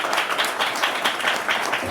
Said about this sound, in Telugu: చప్పట్లు కొట్టాం గట్టిగా.